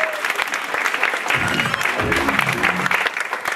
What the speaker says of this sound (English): let's go on with a round of applause